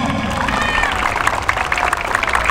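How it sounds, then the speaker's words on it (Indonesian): A crowd at a national youth football tournament round in Lampung applauds and cheers to welcome the visiting football school teams, a dense continuous wash of clapping and crowd noise with voices mixed throughout. "tepuk tangan semuanya dong"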